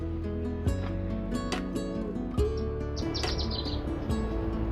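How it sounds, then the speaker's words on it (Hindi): Birds call in the Himalayan hills on the trek from Gangotri to Gaumukh, with several sharp chirps and a burst of high twittering notes over a tonal background hum. "इस पहाड़ियों में ऐसी आवाजें पता नहीं किस किस पक्षी की सुनाई देती रहती हैं, जो मन को बहुत ही ज्यादा सुकून देती हैं"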